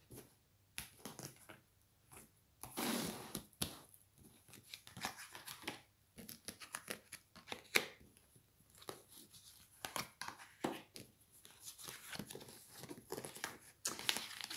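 Tarot cards are cut and shuffled by hand, with quiet papery slaps, flicks and rustles in irregular bursts, close and soft, with no speech.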